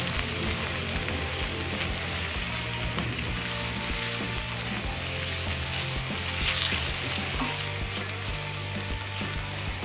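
Onion, ginger, tomato and green chili stir-fry in a hot pan with a steady, dense sizzle and crackle throughout, close and continuous with faint stirring scrapes.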